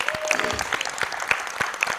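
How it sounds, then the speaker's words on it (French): An audience claps in applause for a man being congratulated at a gathering, a steady, fairly distant patter of many hands with a few sharper claps and faint voices underneath. "Est-ce qu'on peut l'applaudir, s'il vous plaît?"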